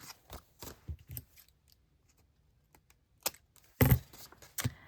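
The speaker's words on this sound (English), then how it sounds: "I need to cut the fishy" Scissors snip through book-page paper during a paper-bag craft session, a few light cuts early on, then a sharper, louder cut near the end, close by in a quiet room.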